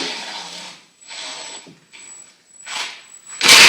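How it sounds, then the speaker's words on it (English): A power drill whirs in several short bursts, pausing between each, as a long screw is driven slowly into a wooden crokinole board rail; one louder burst at the end. "now I'm going to drill it in slowly"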